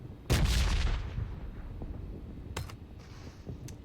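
A single loud, close gunshot with a long decaying boom in an online video game scrim, followed by a few fainter, distant cracks.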